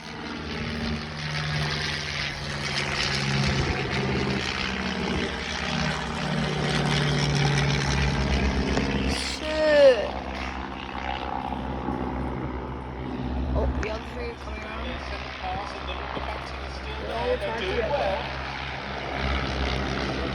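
Propeller aircraft flying a tail chase at the Shuttleworth airshow, a steady droning engine tone heard from a distance with wind noise and crowd chatter around it.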